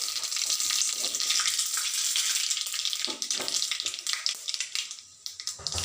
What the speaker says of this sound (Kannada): ಈಗ ಇದಕ್ಕೆ ಸಾಸಿವೆ ಹಾಕ್ತಾಯಿದ್ದೀನಿ